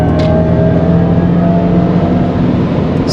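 Inside a Mercedes-AMG EQE 53 electric SUV accelerating to overtake, a loud steady whir and road roar with a faint rising electric tone and no pauses.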